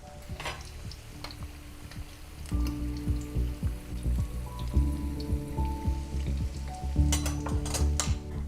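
Onion pakoras in besan batter frying in hot oil, a constant bubbling sizzle that grows fuller as more pieces drop in, with a few sharp crackles and pops up close.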